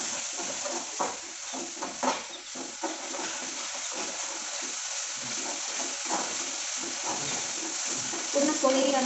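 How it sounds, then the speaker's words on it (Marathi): Ginger-garlic paste frying in hot oil for a Maharashtrian chicken dish sizzles steadily throughout, broken by repeated scraping stirs of a spoon in the pan and some faint background noise. "ती या गरम तेलामध्ये टाकून घ्यायची। ही पेस्ट पूर्ण लाल होऊसतर परतून घ्यायची।"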